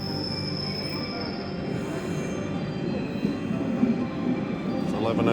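A local train travels through Japan toward Okayama, with a steady interior rumble, faint squealing wheels and a few clicks, heard from on board.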